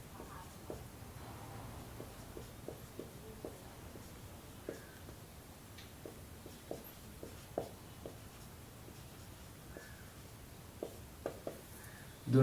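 Pen or pencil writing by hand on paper while working a Class 10 maths multiplication, a quiet steady run of small scratches and taps with faint hum behind it.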